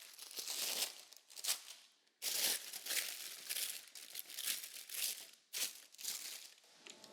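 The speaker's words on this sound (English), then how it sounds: "if you take your parchment paper and you crinkle it up a little bit" Parchment paper is crinkled up by hand in a kitchen, producing close, loud crackling bursts in uneven waves with short pauses between handfuls.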